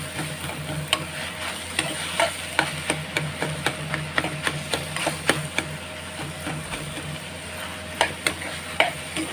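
Boneless chicken momo filling cooking in a pan, a steady close sizzle with regular scraping and tapping strokes of stirring throughout.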